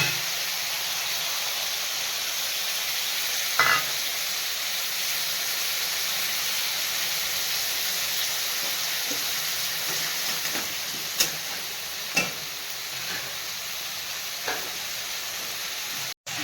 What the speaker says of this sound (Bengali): এবারে মশলাটা আমি কিছুক্ষণ ভেজে নিলাম